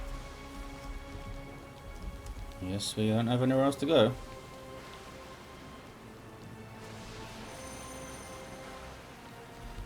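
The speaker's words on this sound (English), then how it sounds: "It's a hell of a storm, that's for sure." Steady, dense rainfall hisses throughout a heavy storm in the video game Pillars of Eternity 2: Deadfire, while a voice speaks briefly over it partway through.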